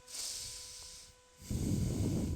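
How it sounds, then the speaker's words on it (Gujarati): A deep breath drawn in through the nose with a soft airy hiss, a brief pause, then a louder, fuller breath of air, close and alone. "શ્વાસ લ્યો ઊંડો"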